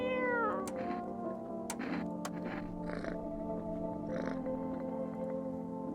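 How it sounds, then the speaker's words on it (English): A cat in the video game No, I'm not a Human meows in a few drawn-out, rising calls, fairly quiet over a steady humming game background. "Hello, kitty."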